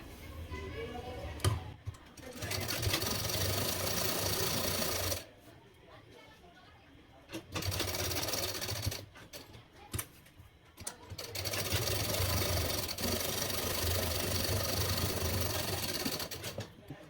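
Sewing machine stitching gota lace trim onto a Bombay cut blouse, running in long loud mechanical bursts separated by short pauses.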